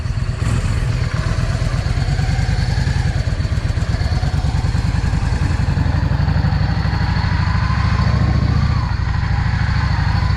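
A Yamaha 650 V-Star motorcycle engine, known to run poorly when cold, rumbles at a steady idle for the whole stretch, close and loud, with a dense, even clatter and no voices over it.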